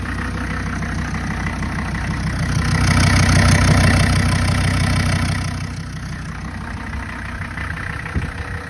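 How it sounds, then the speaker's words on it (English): A Mercedes turbo diesel engine fitted with a hood stack idles loudly and steadily nearby, its deep rumble swelling briefly in the middle before settling back to an even idle, with no talking. "Hood stacked Mercedes turbo diesel."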